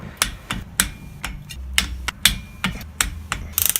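Torque wrench tightening a spark plug on a Yamaha DT Enduro motorcycle, a series of close, sharp ratcheting clicks at an uneven pace, ending in a quick cluster.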